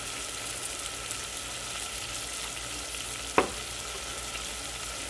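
Vegetables frying in a pan with coriander powder, salt and black pepper powder, a steady close hiss and sizzle throughout with one brief clink of a utensil midway.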